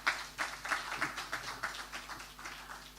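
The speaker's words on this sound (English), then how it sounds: "please just give them a round of applause" Applause for debate candidates at a 2019 Eti Osa election debate, a steady patter of clapping with rhythmic bursts from a modest crowd, fairly faint in the hall.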